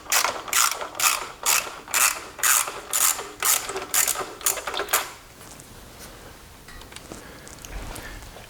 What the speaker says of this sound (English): I got a 10mm socket. We're going to go ahead and loosen up this bolt first.